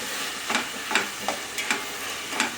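Onions and green chillies frying in a pan for chicken curry, a steady sizzle under a string of about six quick scraping stirs at an even pace, close up with no speech.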